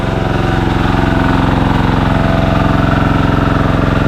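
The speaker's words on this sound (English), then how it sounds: "I've never had a good close-up of one of these trikes before" Motorized trike engine in the Philippines running close by, a loud, steady rhythmic low chugging idle that pulses evenly for the whole stretch without talk.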